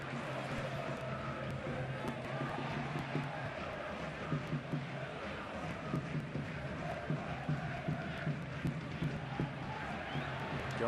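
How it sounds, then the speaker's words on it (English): Football stadium crowd at a Spanish league match between Real Zaragoza and Deportivo de la Coruña, a constant distant roar with whistles and chanting swells, under commentary. "The crowd getting themselves involved now."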